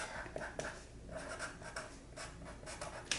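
Pencil or pen scratching on paper while a Native American drum is drawn, a quiet stream of short scratchy strokes with small soft accents, close and faint with no talking.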